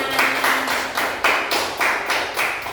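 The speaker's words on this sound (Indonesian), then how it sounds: "Ya, betul, tepuk tangan." A classroom group claps hands together in a quick, regular rhythm of about five or six bursts, close and fairly loud, with no talking over it.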